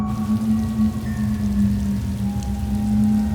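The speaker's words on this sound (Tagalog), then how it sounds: "Bumuhos bigla ang napakalakas na ulan." Heavy rain pours down in a sudden downpour without thunder, a steady, dense hiss of drops that holds without pause.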